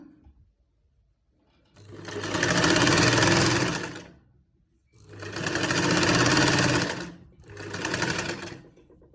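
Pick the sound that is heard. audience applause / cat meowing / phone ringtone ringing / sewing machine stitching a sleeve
sewing machine stitching a sleeve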